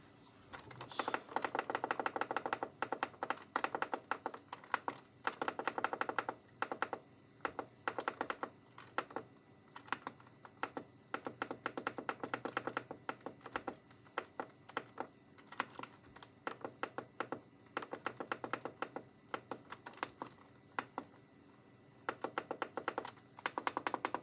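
Buttons being pressed on an Ensoniq ASR-10 sampler keyboard, a long run of quick, close clicks and taps in irregular bursts with short pauses between them, fairly soft throughout.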